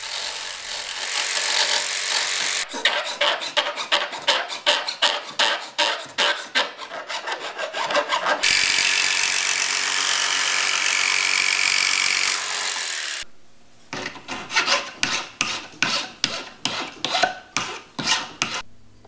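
Hand filing cleans up a notch cut in a metal door jamb hook, with rapid rhythmic rasping strokes in bursts, broken by steadier grinding passes, close and fairly loud.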